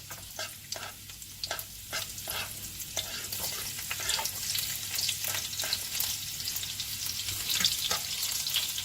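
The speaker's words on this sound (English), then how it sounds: "So I'm gonna add in the rest of my pepper and garlic" Pepper and garlic sizzle in oil in a frying pan over medium heat, a bright steady crackle broken by regular scraping strokes of stirring, close and continuous.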